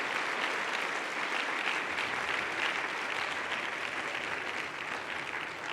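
Steady, dense applause from a church congregation during a Sunday sermon, sustained and fairly loud throughout with no pauses.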